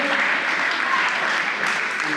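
Steady applause from a crowd at a school volleyball match greets a player being introduced, a brief continuous wash of clapping with an announcer's voice over it.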